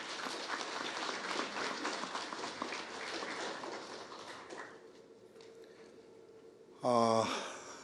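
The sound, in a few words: applause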